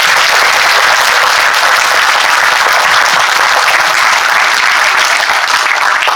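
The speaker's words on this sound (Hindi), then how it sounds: "एक बार अपनी माता जी के लिए जोरदार तालियां बजा दीजिए" A large audience gives sustained, loud applause honoring their mothers at a motivational session, a dense steady wash of many hands clapping throughout with no pauses.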